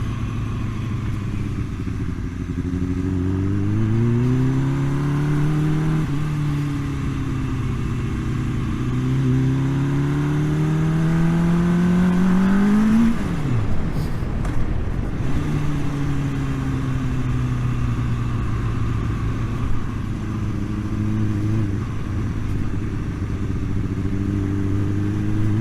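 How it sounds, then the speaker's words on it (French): Loud motorcycle filmed from the rider's seat, its engine climbing through repeated rising revs and gear changes, then settling into a steady drone as the bike cruises. "Elle gueule cette moto, c'est dingue."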